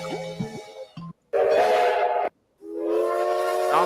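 A recorded steam locomotive whistle sounds in loud, sustained blasts with short gaps between them, the pitch bending slightly as it rises and falls.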